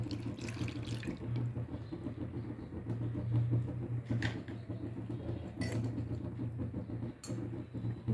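Liquid pours steadily into a pot, a continuous soft splashing stream, as milk goes in for pink payesh in a home kitchen.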